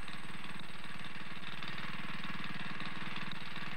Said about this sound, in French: Tu entends ? Un moteur ?